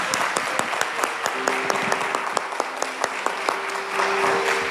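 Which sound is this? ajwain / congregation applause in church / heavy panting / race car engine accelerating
congregation applause in church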